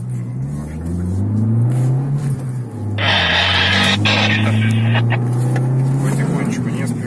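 A Lada Vesta Sport race car pulls away on the Kazan Ring circuit, its engine droning and rising steadily from inside the cabin, with a burst of broadband noise midway and someone speaking calmly over it.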